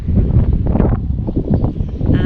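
Gusty wind blowing outdoors in a garden on a rainy day, a steady loud broadband rush buffeting the microphone with rustling throughout, no voices.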